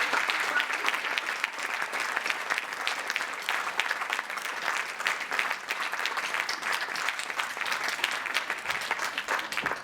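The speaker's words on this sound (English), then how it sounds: "Thank you for the applause, for being such a supportive audience." Sustained audience applause at a school event, a dense, even wash of many hands clapping for the full stretch with no voices standing out.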